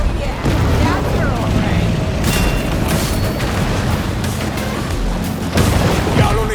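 Torpedo explosions in the Maneater shark video game, a series of loud booming blasts rolling over dense game noise, with heavier bursts around the middle and near the end, and a voice talking under the chaos.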